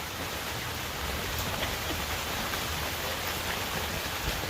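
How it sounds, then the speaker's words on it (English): Heavy rain pours steadily and loudly, a dense unbroken hiss with no pauses and no voices. "that rain is really loud"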